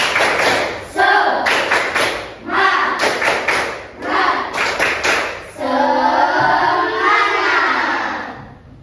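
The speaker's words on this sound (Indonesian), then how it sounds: "Tepuk semangat." A group performs the Indonesian 'tepuk semangat' spirit clap, with bursts of sharp, rhythmic hand claps in patterned groups and loud voices shouting along, ending in a sustained group cheer.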